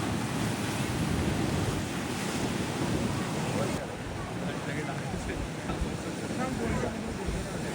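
Sea waves wash steadily onto the shore at Chiwla Beach beside a rock garden, a continuous broad surf roar mixed with gusting wind buffeting the microphone, easing slightly midway through.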